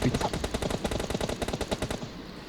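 Rapid automatic gunfire from a PUBG Mobile Lite match, a steady burst of loud close shots lasting about two seconds before tailing off into quieter game ambience.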